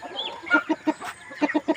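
A chicken clucks in a series of short, evenly spaced bursts, close by and moderately loud, with a brief pause midway.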